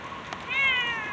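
A cat waiting outside in the rain gives a single clear, drawn-out meow at close range over a steady soft patter of rain.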